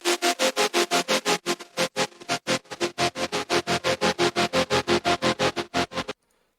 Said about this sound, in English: and it sounds like this with the tremolators on